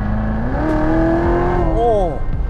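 A 2015 Chevrolet Corvette Z06 engine rises in pitch as it accelerates hard, then the note drops and swings back up as it shifts, loud and close from the cabin, with a faint voice.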